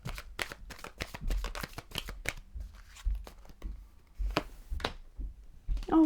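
Tarot cards shuffled by hand, a rapid run of crisp riffling snaps followed by slower separate flicks and taps, close and clear with almost no talking.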